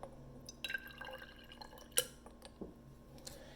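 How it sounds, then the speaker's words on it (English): About 5 millilitres of water poured into a glass test tube as a control sample in a lab experiment, heard as faint trickling with scattered soft drips and a light glassy clink, quiet and close, with no talk. "we're going to put about 5 milliliters of regular water"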